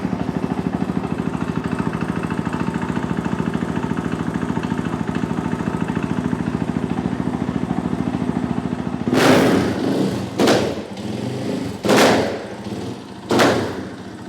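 A supermoto enduro motorcycle engine runs at a steady, buzzy idle for several seconds, then is blipped with three or four loud, sharp revs that rise and drop quickly, close by.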